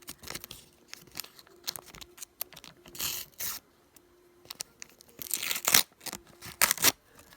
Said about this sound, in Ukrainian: Ось ось такий у нас рожевий пакет. Давайте його відкривати.